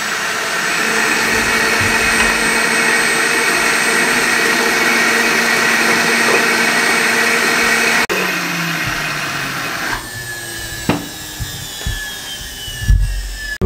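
A blender grinds yellow chutney for golgappa (pani puri) with a loud, steady whirring motor for several seconds before it cuts off. Knocks and clatter of the jar follow.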